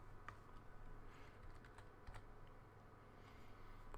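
Quiet, rapid keystrokes on a computer keyboard, a short burst of typing close by with no voices.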